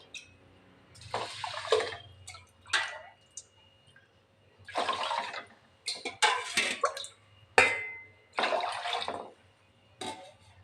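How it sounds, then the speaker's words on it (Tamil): Water poured onto soaked rice in a pressure cooker for sakkarai pongal, about four times the rice's volume, comes in several separate splashing bursts with quiet gaps between them, close by. "அதுக்கு நாலு மடங்கு தண்ணி ஊற்றுறோம்"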